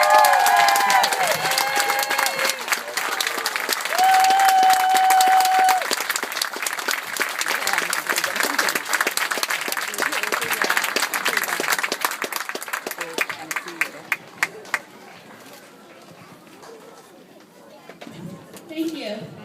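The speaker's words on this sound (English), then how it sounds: "And now you may applaud for all the teachers" A school audience applauds the teachers at a fifth grade promotion ceremony: sustained, dense clapping from a large crowd with some cheering that carries on for over ten seconds, then thins to scattered claps and murmuring talk near the end.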